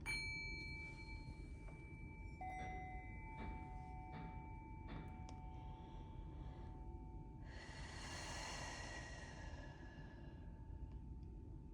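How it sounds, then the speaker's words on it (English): Faint metallic clanks and dings come from a distance over a low rumble, followed by a longer scraping, grinding noise. "You might hear some construction outside."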